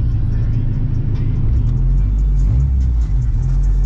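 Honda B20 VTEC engine running in an Integra, a loud, steady low rumble with a constant mid-range hum and no breaks throughout.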